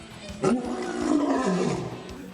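A loud lion roar sound effect, a single sustained growling roar that rises sharply and then rolls on for nearly two seconds before fading.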